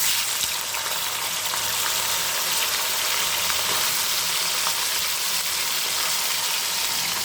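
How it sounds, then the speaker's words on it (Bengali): Salt-rubbed broiler chicken meat goes into a hot pan to fry lightly after the potatoes come out, giving a continuous, even hiss that stays loud and unbroken throughout. "এবারে আমি এর মধ্যে দিয়ে দেব লবণ দিয়ে মাখিয়ে রাখা মাংসগুলো।"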